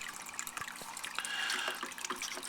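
Water trickles and splashes through a Fluval C series aquarium filter, a soft continuous flow with small drips and bubbling, fairly quiet and close, with no voices.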